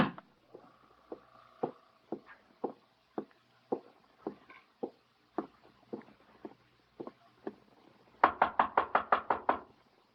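Knocks land on a hotel room door in a radio drama, slow single raps spaced over several seconds, then a fast loud burst of pounding at the end.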